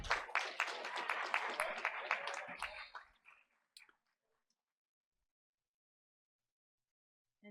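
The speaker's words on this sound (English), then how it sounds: "Let's give them all a round of applause." A crowd at a school board meeting gives a round of applause for coaches, fairly quiet and crisp, running for about three seconds before trailing off into a few scattered claps and silence.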